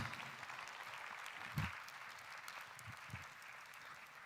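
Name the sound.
audience applause as guest walks upstage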